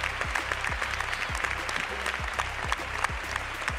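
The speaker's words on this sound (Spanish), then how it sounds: "Los asistentes se fundieron en un aplauso solidario con el productor" A crowd applauds at the 2005 TP awards ceremony, a steady, moderately distant patter of many hands with a repeating low thumping underneath, continuing evenly throughout.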